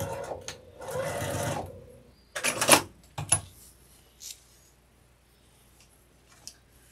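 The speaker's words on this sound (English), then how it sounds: "I'm going to start with a back stitch. And I'm just going to sew all the way down." A sewing machine running a seam on a pillow cover, with short bursts of rapid stitching, a longer run and a few quick back stitches, separated by pauses and small clicks, close up.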